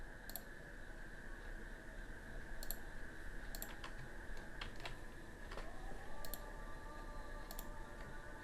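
A computer mouse clicks while working in Publisher: several faint, sharp single clicks spaced irregularly over a quiet, steady background hum.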